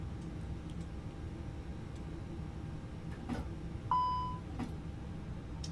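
A single electronic warning beep sounds in an Airbus A320 cockpit in Microsoft Flight Simulator, cutting in clearly about two-thirds of the way through over a faint hum, with a couple of soft clicks around it.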